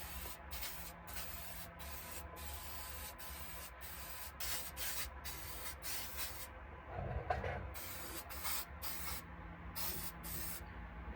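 Permatex rust treatment sprayed onto bare and rusted interior metal of a 30-year-old shop truck, heard as a series of short aerosol hisses in bursts with brief gaps, close and steady, with no talking.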